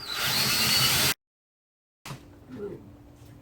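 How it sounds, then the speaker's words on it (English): Power drill with a 3/8 inch bit boring a hole while building a pinch block, one loud whirring burst that stops abruptly, followed after a short silence by quieter handling sounds. "So switch back to your 3/8 inch drill bit."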